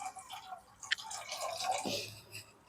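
Water poured from a tumbler into a pot holding 100 grams of washed moong dal with ghee, a soft splashing gush that swells briefly before fading, quiet and close with no talking.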